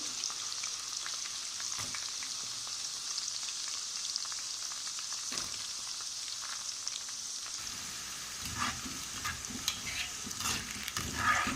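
Okra (bhindi) frying in oil in a pan, a continuous soft hiss and crackle with scattered pops, quiet and close, growing busier near the end as pieces are stirred; no talking.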